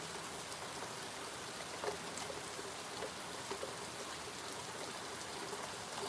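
Steady rain falls outdoors, a soft even hiss of drops with occasional slightly louder pattering, continuous and fairly quiet throughout with no voices.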